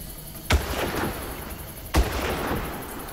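Two loud, booming gunshots in the video game Far Cry, spaced about a second and a half apart, each followed by a rumbling echo over a steady background hum.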